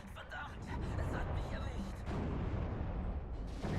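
Mortar fire in Steel Division 2 makes a steady rumble of distant booming impacts beneath battlefield ambience, with some speech faintly mixed in.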